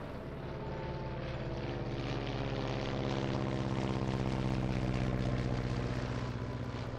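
A U-2 spy plane's jet engine roars loudly and steadily during takeoff, a continuous close rumble that swells slightly as it goes.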